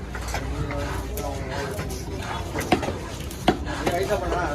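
A knife chops through fish on a board, slicing it into pieces, with a few sharp cuts standing out under steady talking and background clatter.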